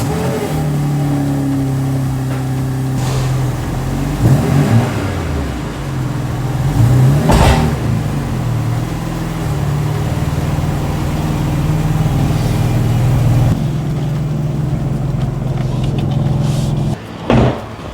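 A BMW G87 M2 fitted with an AWE SwitchPath exhaust idles with a deep steady drone, rising in a few short revs, with a door-like thump near the end.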